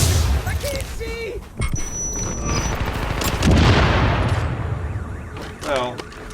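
A grenade detonates in The Division, a video game, as a loud broad boom that rolls into a sustained rumbling roar, with scattered game effects and a sharp crackle near the end.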